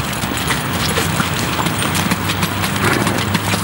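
Horses walk on a racecourse, hooves clip-clopping in a loose, uneven rhythm at fairly close range, loud and continuous with no speech.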